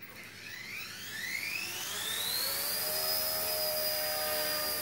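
An XK K124 RC EC145 helicopter flies indoors, its high, whining rotor and motor rising steadily in pitch as it spools up, then holding a loud, even drone close by, with no talking.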